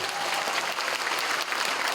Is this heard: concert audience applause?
yes